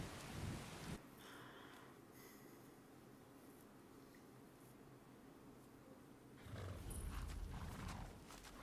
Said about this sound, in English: This rain will stop eventually.